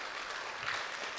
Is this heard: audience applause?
yes